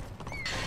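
A horse in the game Alicia Online gives a short, high whinny that rises and holds briefly, fairly faint and clear with no talk over it.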